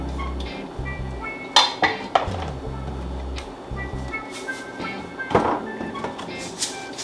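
Chopped thyme and pecans going into a kitchen bowl, with close clinks and knocks of bowl and utensils and scattered dish clatter over a quiet background.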